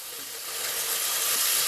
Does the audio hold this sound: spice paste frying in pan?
yes